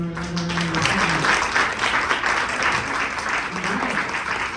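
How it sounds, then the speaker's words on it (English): An audience gives sustained applause for an honoree at a Women's History Month awards ceremony, a dense steady wash of clapping filling the room, with a voice briefly audible at the start. "please give Ms. Landor another round of applause"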